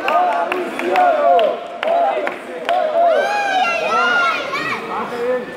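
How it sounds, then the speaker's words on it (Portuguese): A goalball crowd at a Brazilian regional match protesting an assistant referee, with loud overlapping shouting, whistling and chatter, under a continuous excited voice talking over the top. "Torcida revoltada aqui com o auxiliar Luciano. Olha o protesto."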